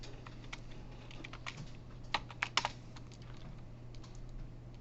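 Typing on a computer keyboard, a short burst of light clicking keystrokes with a few louder taps, close, over a steady electrical hum and no talk.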